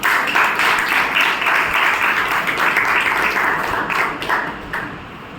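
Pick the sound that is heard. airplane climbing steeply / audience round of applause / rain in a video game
audience round of applause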